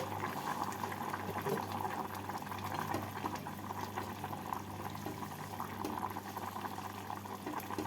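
Potatoes simmer in a covered pot over a low flame for Kashmiri-style aloo dum, giving a steady, continuous bubbling hiss with a low hum beneath, close by and with no voices.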